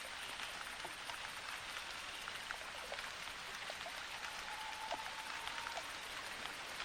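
Rain falls in TheHunter 2015 on a bayou during a duck hunt, a steady soft hiss of drops with scattered faint taps and a high steady whine above, no voices.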